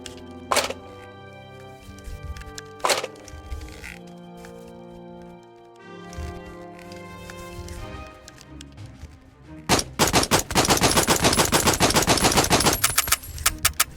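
Gunfire in the VR shooter Out of Ammo: a couple of sharp isolated shots with ringing tails early on, then a dense, loud burst of rapid automatic fire near the end.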